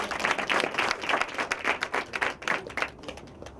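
A crowd of people clapping their hands together in steady, dense applause at a church youth and women's fellowship gathering, with the clapping rising and falling in bursts throughout.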